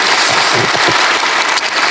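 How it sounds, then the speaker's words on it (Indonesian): A church congregation claps together in a loud, dense burst of applause that sustains evenly for a couple of seconds. "Berikan tepuk tangan kita untuk Tuhan kita."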